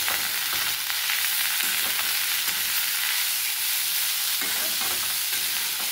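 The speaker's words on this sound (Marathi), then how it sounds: "छानपैकी आता ही मिरची आपल्याला परतून घ्यायची।" Chillies frying in oil in a pan for a rustic Solapur-style chilli dish, a steady loud sizzle with faint scraping from stirring throughout, no voices.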